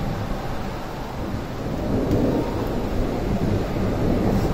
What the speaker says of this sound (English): Thank you for the beautiful storm.